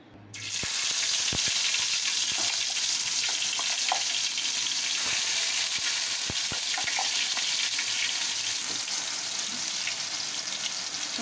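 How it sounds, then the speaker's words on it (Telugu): Masala paste for a fish curry fries in plenty of hot oil, giving a steady, loud sizzle that starts abruptly and holds for about eleven seconds. A few sharp spits and crackles break through, and no one speaks. "మసాలా అంతా ఆయిల్ బాగా ఫ్రై చేసుకోవాలి."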